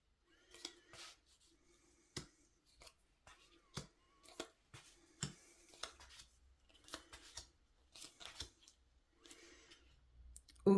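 Lenormand cards laid out one by one on a table, producing a series of quiet, crisp snaps and light clicks at irregular intervals, close and without talk.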